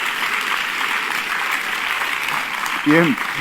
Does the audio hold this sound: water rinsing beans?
no